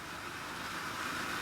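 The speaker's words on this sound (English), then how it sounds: "That noise is actually the wheels on the rails." An HO scale ScaleTrains C44-9W Dash 9 model locomotive rolls with its motor off, giving a steady, faint, even rolling hiss of metal wheels on rails throughout, with no voices.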